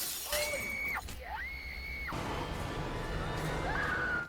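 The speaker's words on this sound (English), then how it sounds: "a large man wearing a mask and holding an axe smashes through the truck window" A truck window shatters loudly under an axe blow, with a sharp crash and breaking glass over a dramatic score and sustained tones, rising to a high, piercing tone toward the end.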